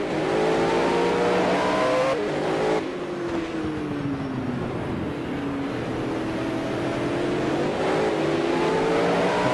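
Mustang touring car racing under power in the 1985 New Zealand touring car championship at the Wellington 500 km, a loud continuous engine roar with pitch swells as it accelerates, heard close and steady without any talk.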